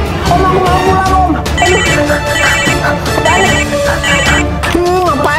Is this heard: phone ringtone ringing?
yes